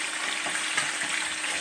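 Fish frying in hot oil in a home kitchen gives a steady, dense sizzle and crackle that holds evenly throughout, close and moderately loud, with no voices.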